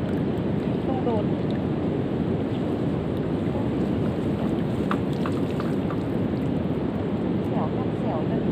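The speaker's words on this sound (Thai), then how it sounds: "เสียงฝนมาใกล้ติดๆแล้วเนาะ" Steady rain closing in over the Kok River during a night of lift-net fishing, a dense continuous hiss of drops on water and surfaces with occasional faint rumbles, constant and fairly loud throughout.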